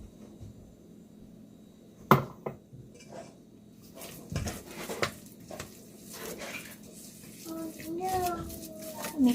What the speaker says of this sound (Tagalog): Mix lang natin ulit yung ingredients.